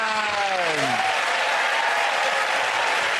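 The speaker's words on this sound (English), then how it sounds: "give that round of applause" Studio audience applause at a comedy panel show, a loud, dense burst of clapping that carries on steadily throughout, with a host's voice briefly trailing off at the start.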